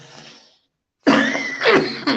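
One person coughs close to the microphone, a burst of harsh, throaty coughs after a short silence.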